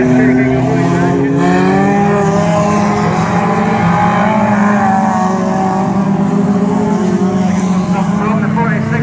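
Banger racing cars at Crimond in Scotland roar around the track in a steady, loud engine drone with shifting pitch, heard close and continuous throughout.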